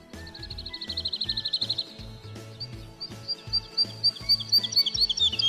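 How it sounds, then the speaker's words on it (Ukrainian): High, rapid trilling birdsong with bursts of chirps over a steady low background hum, fairly near and continuous. "У квітні прилітають жайворонки."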